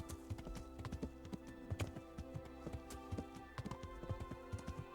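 Horse hooves clip-clop in the video game Kingdom Come: Deliverance, a quick, uneven run of clear hoofbeats at moderate distance, steady across the stretch with no talking over them.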